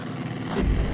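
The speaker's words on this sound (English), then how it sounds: "Take off, and all the arty-farty music stuff is replaced by the roar of engines" Roar of WWI biplane engines at take-off in the Amiga flight combat game Wings, a low rumble that swells louder over its final half.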